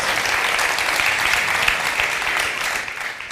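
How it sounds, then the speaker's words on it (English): Steady, dense applause from a crowd, continuous clapping filling the whole stretch at a fairly loud level with no voices breaking through. "give them a round of applause"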